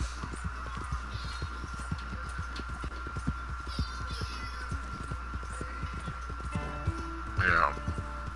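A horse's hooves clip-clop in a steady, even rhythm while ridden in a video game, with a low hum underneath and a brief whinny-like sound near the end.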